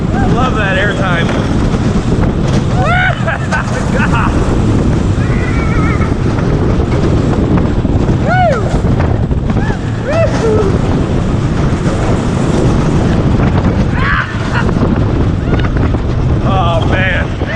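Reverse-facing ride on the Twisted Cyclone roller coaster at Six Flags Over Georgia in cold weather, with loud, constant wind roar buffeting the microphone throughout and faint whooshes and distant shouts underneath.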